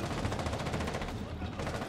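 Rapid automatic gunfire in a squad shooter video game, a fast even burst of shots that stutters briefly, then resumes at moderate level.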